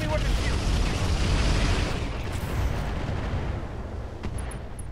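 An EMP weapon fired in the Roguetech video game gives a loud, dense roaring blast from the start that slowly fades into a rumbling wash, with a faint tonal blip near the end.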